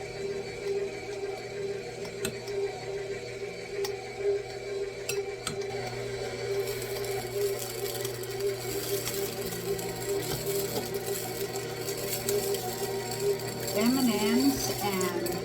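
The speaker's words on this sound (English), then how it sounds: "now we're going to start adding the flour, but we're only going to mix it until it's just combined." Flour being mixed into monster cookie dough, likely by an electric mixer, a steady mechanical whir that runs throughout at moderate level with faint clinks of bowl and utensils.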